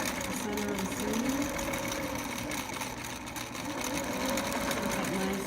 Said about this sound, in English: do the top stitching from the Basting fabric side